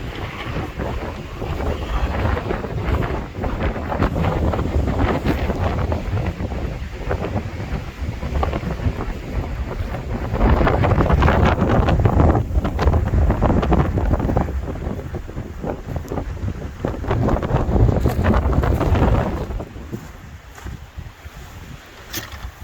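Strong wind gusts buffet a cattle panel greenhouse, its covering flapping as loud, steady roaring surges swell and ease, easing off near the end.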